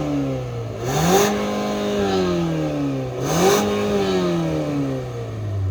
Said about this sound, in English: Dual exhaust, listen to it from the outside